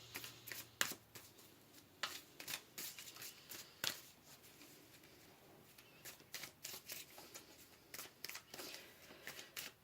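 Tarot cards are shuffled by hand to pull a card, a close series of quick papery riffles and slaps in irregular bursts, fairly quiet with no talking.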